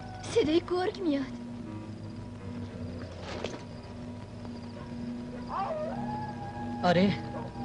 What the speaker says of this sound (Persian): صدای گرگ میاد.